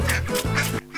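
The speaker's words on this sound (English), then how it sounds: "I think one of the ducks saw me." Cartoon duck quacking in two loud, nasal bursts followed by a shorter third quack, close and clear with no talking.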